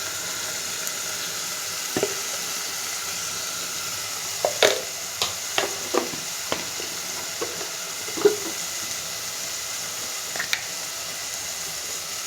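Curry with chili powder just added fries quietly in a pan under a steady sizzle, while scattered taps and scrapes of a spoon stirring it sound close.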